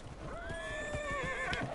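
A horse whinnies in a long, high, wavering neigh, with soft hoof clops underneath, in the video game Dragon Age: Inquisition.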